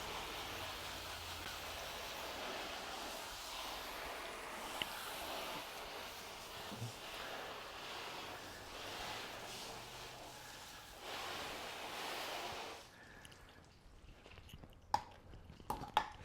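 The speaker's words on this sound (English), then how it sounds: "I'll be getting the whole car wet again" Water sprays over a car during a wash, making a steady hissing rush for about twelve seconds. It then stops, leaving quiet with a few faint drips and clicks.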